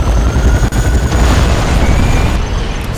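Continuous loud, broadband roar of a nuclear missile blast from the C&C Generals strategy game, a sustained rumbling boom with heavy low end that holds steady for the whole stretch and tapers only slightly at the end.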